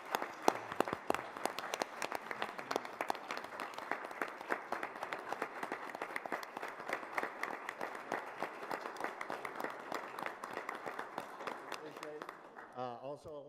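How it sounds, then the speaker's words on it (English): An audience at a Board of Education meeting applauds in a sustained, dense round of clapping that holds steady for several seconds, then fades as the room quiets. "if you want to just give me a round of applause with these guys"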